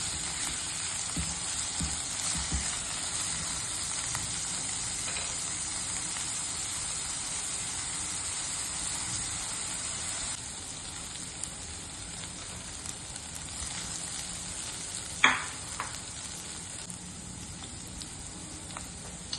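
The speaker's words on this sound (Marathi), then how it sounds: "डाळ सुद्धा चांगली परतली गेली आहे" Soaked dal being sautéed in a pan for a fenugreek curry, a steady soft sizzle and hiss running throughout with faint stirring scrapes and one brief louder clatter near the end.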